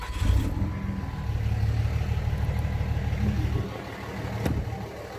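A 5.9 Cummins diesel truck engine idles up close during a blow-by test, a steady low rumble that eases off toward the end, with a faint click late on and no speech.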